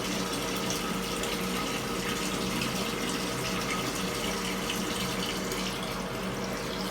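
Water pouring steadily into a fish tank, a continuous loud rushing and splashing wash with a pump-like hum beneath and no pauses.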